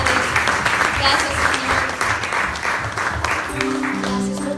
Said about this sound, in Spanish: Un aplauso, mis hermanos.